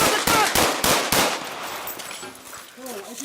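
Gunfire from a police officer confronting a man holding a replica gun during a foot chase: a rapid burst of loud, sharp cracks in the first second and a half, followed by shouting and outdoor commotion.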